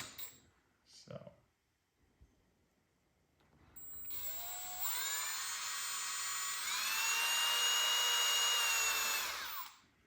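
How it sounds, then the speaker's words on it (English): A small pinhole drill bit whirs into thin plastic on a GR Corolla for a factory rear spoiler install, a high steady whine rising after a brief pause and running several seconds before spinning down. "I drill them out with a little pinhole drill bit"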